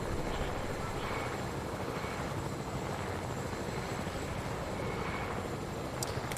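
A helicopter in the Fortnite video game gives a steady, loud rotor and engine drone that fills the scene without a break, with no talk over it.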